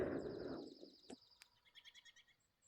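Small birds chirp faintly outdoors, with a quick series of high tweets following a brief low rumble, all distant and quiet.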